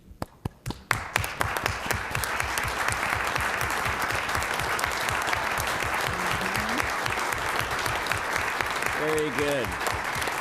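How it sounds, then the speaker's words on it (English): An audience at a city council meeting applauds current and past elected officials with sustained, dense clapping from a full room. A voice speaks briefly over the applause. "just stand up so we can applaud all of you and the work you do"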